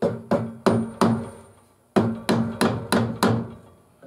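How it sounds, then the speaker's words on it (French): A hammer taps delicately on a glued coffee tamper, nine sharp knocks in two groups of four and five, each ringing briefly before fading, with no talk. "avec mon marteau"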